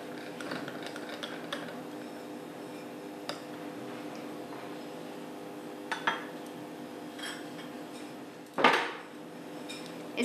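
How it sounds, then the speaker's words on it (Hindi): Pasta salad stirred with white vinegar in a bowl, with scattered light clinks and scrapes of a spoon against the dish and one sharper knock near the end, over a steady low background hum. "हम इसको अच्छे से मिक्स कर लेंगे"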